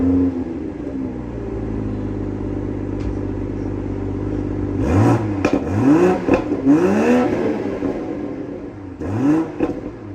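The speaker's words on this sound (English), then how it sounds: "why don't we take a second to take a quick listen to an exhaust clip" A 2022 BMW Z4 M40i with its B58 straight-six idles steadily, then the exhaust barks through several sharp revs, loud and close, with a final blip near the end.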